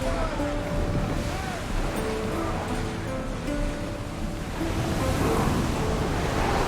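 Waves and wind rush steadily as a sailing ship cuts across the sea in Assassin's Creed Odyssey, with faint tonal game sounds drifting over the constant surf and no talking.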